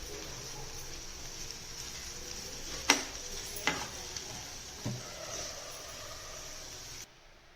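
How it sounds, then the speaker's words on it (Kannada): Paneer dry masala fries in a pan over a low flame, making a faint, steady sizzle with a few light taps and scrapes from a utensil before it cuts off abruptly. "ಸಣ್ಣ ಉರಿನಲ್ಲೇ ಚೆನ್ನಾಗಿ ಫ್ರೈ ಮಾಡಿರಿ"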